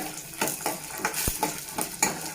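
Garlic stirred in a hot pan for a masala idli and peanut chutney dish, with a steady sizzle and about five scraping strokes of a spoon across the pan and one brief knock, no talking.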